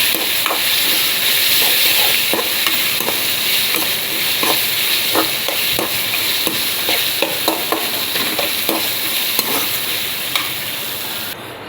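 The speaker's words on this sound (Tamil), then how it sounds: "இந்த தக்காளியும் கொஞ்சம் நல்லா வதங்கட்டும்" Steady sizzling of tomatoes sautéing in a frying pan with occasional scraping stirs, continuous and fairly loud, no voices.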